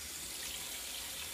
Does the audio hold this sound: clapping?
no